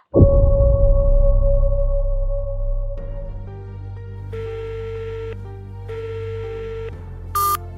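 A phone call rings unanswered, with a single loud tone that drops after a few seconds to a repeating electronic ring in two steady bursts, ending on a short high beep with no voices.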